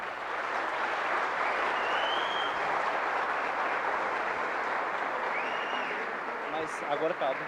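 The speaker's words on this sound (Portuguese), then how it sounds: "Salva de palmas a isso." Sustained audience applause fills a Portuguese-language Laravel tech talk at its close, steady and dense throughout, with a faint voice and a few louder claps near the end.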